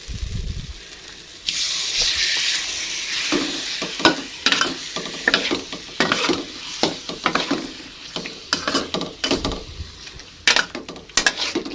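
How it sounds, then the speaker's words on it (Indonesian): Chicken liver and gizzard frying in cooked spice paste in a pan, a steady loud sizzle with repeated scraping stirs of a utensil throughout. "Kita masak dulu ati ampelanya seperti ini, biar ati ampelanya itu kayak agak kaku gitu"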